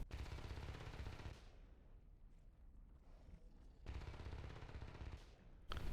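Video game gunfire from a competitive match rattles in faint, rapid bursts: a stretch at the start, another in the middle and a short one at the end, with quieter gaps between them.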